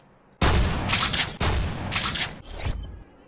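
Heavy, booming gunfire in Call of Duty Modern Warfare 3 played in GMOD, three or four loud close volleys with echoing tails and brief gaps between them.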